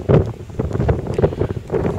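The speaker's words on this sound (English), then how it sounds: "it's too windy and the wind's kind of problematic" Blustery wind buffets the microphone in rough, uneven gusts, a low rumbling roar with no voices, out in the fells near Calf Crag in the Lake District.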